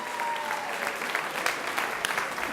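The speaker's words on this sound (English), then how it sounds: "Give him a round of applause." Audience applause at an employee recognition event, steady dense clapping across the whole stretch with a few sharper claps standing out, no talk over it.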